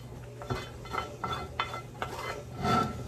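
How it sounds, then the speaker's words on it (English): Hot onions going back into a pot of Southern grits, heard as a few soft scrapes, knocks and clinks of a spoon against the pot in an uneven rhythm, close up, with no talk. "our onions, hot, can go right back in the pot with the grits"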